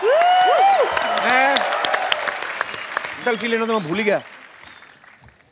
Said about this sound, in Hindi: एक बार फोर्स टू की सारी टीम के लिए जोरदार तालियां